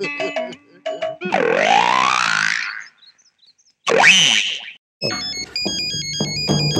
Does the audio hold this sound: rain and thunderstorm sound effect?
no